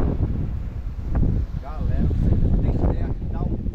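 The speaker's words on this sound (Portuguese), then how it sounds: "E, gente, tá ventando demais." Strong wind gusts at a high lookout above the São Francisco River on the Alagoas-Bahia border, roaring steadily across the microphone beneath someone talking.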